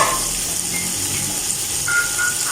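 Water is added to frying masala for matar pulao in a pan, producing a steady hiss and crackle of sizzling with faint stirring, moderately loud and continuous without speech.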